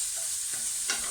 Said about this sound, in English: So just frying that off gently.